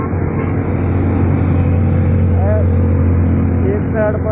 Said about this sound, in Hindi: ट्रैफिक आज भी बहुत जाम है इधर रोड पर ना, बहुत जाम ट्रैफिक